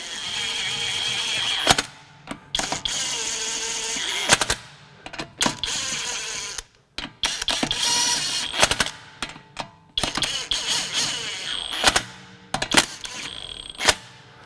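Kobalt 24-volt brushless mid-torque 1/2-inch impact wrench running on its level 1 setting, with loud buzzing hammering bursts of a second or two separated by short pauses, close by and with no speech.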